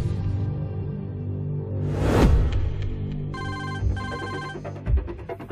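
A telephone ringtone from a film scene involving a rental car, sounding in two bright, tonal bursts after a whooshing swell, with low rumbling background underneath.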